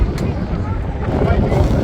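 Wind gusts into the microphone on a windy day at an outdoor wartime-themed weekend event at Blyth Battery in Northumberland, producing a constant low, rumbling buffet that fills the whole short stretch.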